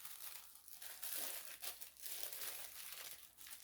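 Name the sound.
crinkling pretty paper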